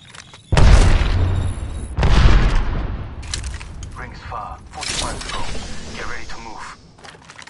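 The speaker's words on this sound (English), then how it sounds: "Grenade!" Grenade blast in a video game, a sudden loud boom followed by a second heavy impact, then mechanical clicks, rattles and scattered gunfire-like cracks, with a voice talking over the later part.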